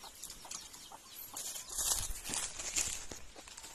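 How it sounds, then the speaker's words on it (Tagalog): Soft, scattered clucks from a chicken on a calamansi farm amid rustling and scratching noises, fairly close and quiet, with no talking. "Para makalabas tong manok."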